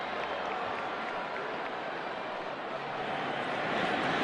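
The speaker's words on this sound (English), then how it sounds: "Crowd groans a little bit." Stadium crowd at an Iowa at Ohio State college football game lets out a broad, sustained murmuring groan that fills the space evenly and swells slightly toward the end.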